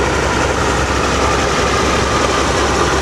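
A 1950 Oliver 88 diesel tractor engine runs close by with a steady, heavy low rumble at a tractor show, constant and loud throughout the few seconds with no talk.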